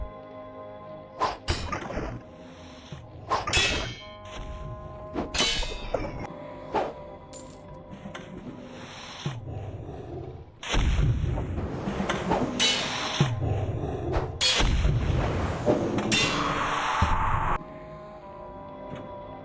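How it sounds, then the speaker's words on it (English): Hell cannons firing in the video game Dread Delusion, heavy booming blasts and whooshing impacts repeating irregularly, with a denser run of loud overlapping shots in the second half and no talk. "those are hell cannons"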